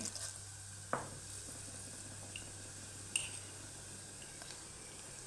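Chana dal and urad dal dropped into hot oil in a pan, giving a soft steady sizzle with a couple of brief sharp crackles and pops over the low background hum.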